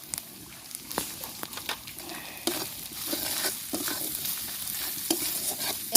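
Turmeric, chili and cumin powders with salt fry in hot oil for a Bengali-style ridge gourd curry, a close, steady sizzle broken by repeated scraping strokes of a spatula stirring the pan.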